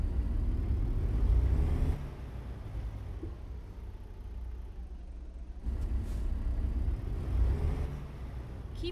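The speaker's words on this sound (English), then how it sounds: "I feel like the Jake brake sounds the same no matter what friggin' truck I'm using" A Peterbilt day cab truck pulling a logging trailer in American Truck Simulator, its engine rumbling low and steady with a heavier, louder Jake brake burst near the start and again toward the end.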